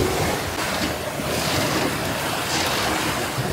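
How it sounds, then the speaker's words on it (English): Rough ocean waves surge and wash steadily around a sailboat at sea, a continuous loud roar of surf and water with wind buffeting the microphone throughout. "So the waves have picked up."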